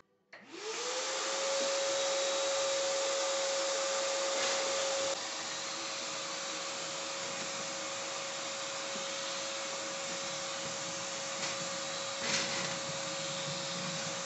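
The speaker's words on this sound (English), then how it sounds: "hit it with a vacuum cleaner." A vacuum cleaner runs continuously inside an oven in a mobile home, with a loud, steady whine and rush of suction that dips slightly partway through and carries on without pause.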